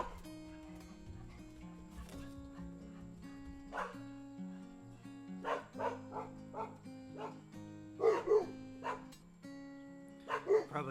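Dogs bark in short bursts, a couple of them yipping over steady fingerpicked guitar, the barks moderately close and growing louder toward the end.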